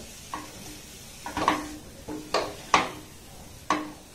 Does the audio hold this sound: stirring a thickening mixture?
yes